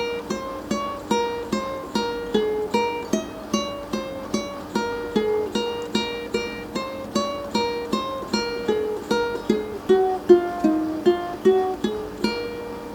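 Ukulele picks out the intro melody of a song, a steady run of plucked single notes with a quick, even rhythm, close and fairly soft with no talking.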